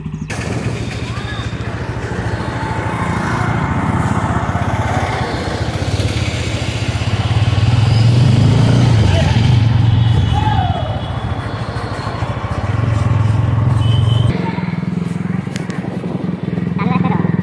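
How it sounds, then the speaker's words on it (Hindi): Motorcycle engine left idling for a minute or two after a morning start, a steady low rumble that holds throughout, loud and close, with a slight rise midway. "बाइक को कम से कम एक या दो मिनट स्टार्ट करके छोड़ देना चाहिए इस तरीके से।"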